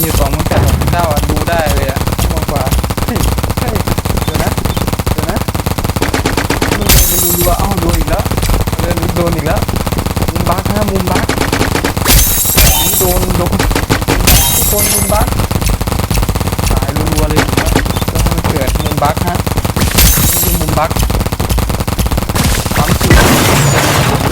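Rapid paintball gun fire in a Roblox paintball match, long dense bursts crackling continuously at loud volume, with a few sharper bangs standing out, under excited talk from a player.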